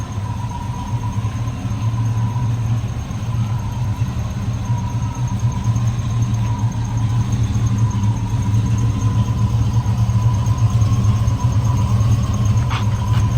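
A 1971 Chevrolet Chevelle with a 350 V8 idles steadily, a close, even low rumble with a faint whine riding above it, continuous and unbroken throughout.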